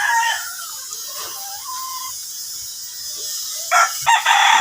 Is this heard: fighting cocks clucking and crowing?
yes